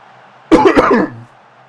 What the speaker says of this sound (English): I've been trying to mute myself for my coughing.